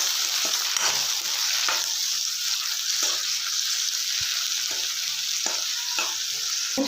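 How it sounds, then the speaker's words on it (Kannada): Tomatoes stirred into fried onions in a pan for North Karnataka style brinjal palya, a continuous soft sizzle with regular spatula scrapes and stirs, no talk. "ಇವಾಗ ಟೊಮೊಟೊ ಹಾಕೋಣ. ಚೆನ್ನಾಗಿ ಮಿಕ್ಸ್ ಮಾಡ್ಕೊಳ್ಳೋಣ"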